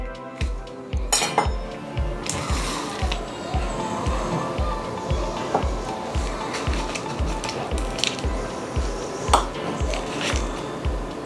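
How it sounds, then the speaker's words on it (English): A knife chops repeatedly through cold salted butter on a board, with a steady run of sharp taps, some clinks of cutlery and dishes, and a voice talking. "I'm gonna cube up my butter, and this is also salted butter"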